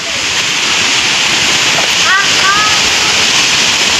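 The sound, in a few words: waterfall flowing down from a hilltop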